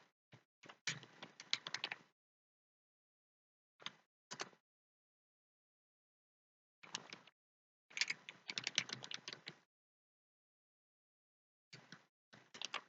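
Quiet bursts of rapid key clicks as C++ code is typed on a computer keyboard, several short flurries separated by silent pauses, close and soft with no voices.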